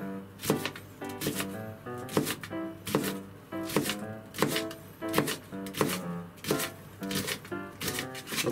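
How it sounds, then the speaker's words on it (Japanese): A knife chops green onion rapidly on a cutting board in steady, evenly spaced strokes, close and crisp, with no talking. "ネギはまあ適当に粗みじん切りと。"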